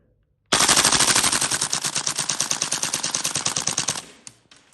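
A Tokyo Marui MWS airsoft rifle fires on full auto in one continuous rapid burst of evenly spaced, crisp clacking shots lasting about three and a half seconds, then stops abruptly.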